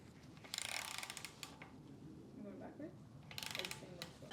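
Clicking from an SR20DET engine's crankshaft being turned by hand during a rebuild, with the tensioner ticking; bursts of sharp mechanical clicks come near the start and again near the end, with a lighter ratcheting rattle in between.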